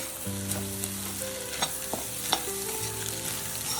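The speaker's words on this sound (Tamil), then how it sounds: "அப்புறம் பீன்ஸு, கேரட்டு பீன்ஸு போட்டுட்டு நல்லா வதங்கணும்" Carrots and beans sauté in a pan for spicy homemade chicken noodles, a continuous close sizzle with occasional utensil clicks and scrapes as the vegetables are stirred, with no talking.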